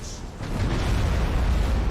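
Space battle in the strategy game Battlefleet Gothic: Armada 2, with spaceship explosions merging into a continuous, loud, rumbling roar with bursts layered on top.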